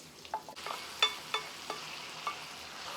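Quiet frying sizzle of vegetables (a sofrito-style base for beef empanada filling) in a pan, punctuated by a few soft clicks and pops from stirring.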